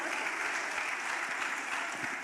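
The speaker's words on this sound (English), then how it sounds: "Shall we give them a round of applause?" Conference audience applauding panelists at a senior nursing and midwifery managers conference, a dense, steady wash of clapping from a large room that holds evenly for the whole stretch.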